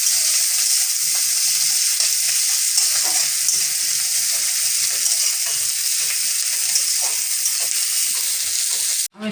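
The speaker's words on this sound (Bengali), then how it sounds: "দুটো পেঁয়াজ কাটা ছিল, আমি সেটা দিয়ে দিচ্ছি। পেঁয়াজটাকে আমি লাল করে ভেজে নেব।" Two chopped medium onions fry in a pan for a chicken dish, a loud continuous close sizzle with light stirring scrapes, cutting off abruptly at the end.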